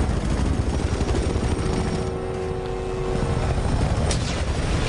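Helicopter in the video game F.E.A.R. 3, a loud, steady rotor roar holding close and continuous throughout with no voices.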